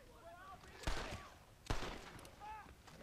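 Shotgun blasts from the video game Red Dead Redemption, two loud sharp booms about a second apart, heard under and between a man's speech.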